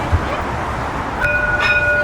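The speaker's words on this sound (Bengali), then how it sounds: "এখান থেকে আমাকে মেট্রো ধরতে হবে" A Dubai Metro train passes near a station in the Dubai Marina area, a steady rolling rumble with a bright tonal whine coming in partway through and holding to the end.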